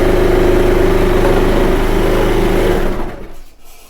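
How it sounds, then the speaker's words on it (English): A serger runs fast along the edge of a fabric face mask, making a loud, close, steady mechanical whir that stops near the end. "I like the serger though because it's super fast"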